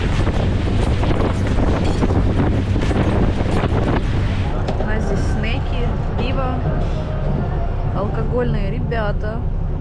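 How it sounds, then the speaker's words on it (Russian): Strong wind buffets the microphone on a yacht moving fast across the sea off Greece, a steady broadband roar with water rush throughout, while someone talks over it in the second half. "Пока ветрено. Ветрено. Синоптики обещают ветер."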